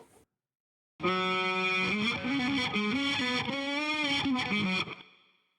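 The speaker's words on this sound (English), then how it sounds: "I'm going to capture it in this looping device, and then spit it back out backwards." A distorted electric guitar phrase plays with swelling, reversed-sounding attacks, ringing for a few seconds before fading out.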